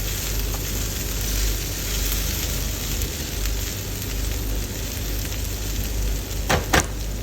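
Rice sizzles steadily in a pan of fried onion and garlic over very high heat, a continuous loud crackling hiss with a couple of sharp clinks near the end.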